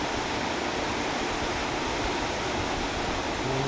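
Dense, steady roar of extremely heavy rain pouring down without letup, a loud hiss filling the whole scene.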